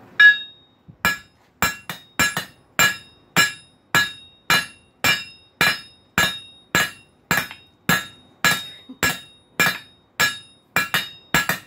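Steady hammer blows ring out on heated metal as a hook is flattened, about twenty sharp, bright strikes at a regular rhythm, close and loud with short ringing decay between hits.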